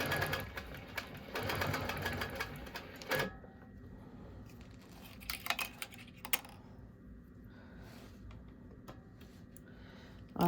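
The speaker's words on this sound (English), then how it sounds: "I'm just going to sew this" A sewing machine stitches fabric in a fast, steady mechanical run for about three seconds, then stops. Light clicks and handling noises follow in a quiet room.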